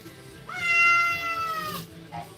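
A cat gives one drawn-out, clear meow close by, loud and rising then fading, with faint background sound and no talk.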